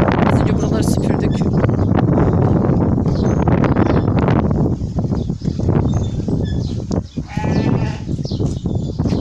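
Sheep and lambs bleat repeatedly at a village farm in Demirtaş, Turkey, loud and close under steady wind and livestock stir, with a few higher calls rising toward the end and people talking nearby.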